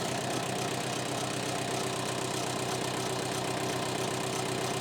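1987 Ford F350 with a 6.9 IDI diesel engine running at idle, a steady continuous clattering rumble with a constant even rhythm, moderately close and alone, no voices.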